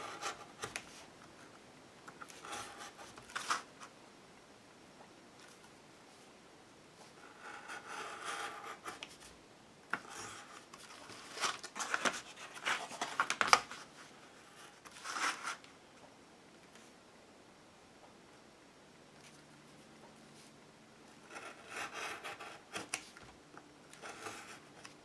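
Blade drawn along a metal ruler through card on a cutting mat, cutting solid lines: repeated short scraping strokes in separate bursts with pauses between, close and fairly quiet.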